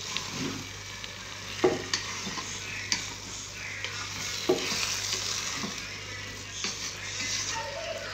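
Khichuri cooking in a pot, with steady frying sizzle under a low electrical hum and occasional scraping, tapping stirs of a spoon against the pot.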